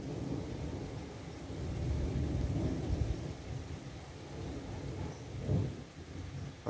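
Deep rolling thunder from a moderate summer thunderstorm over Grenoble in the Alps rumbles continuously and loudly, then swells into a heavier crack near the end.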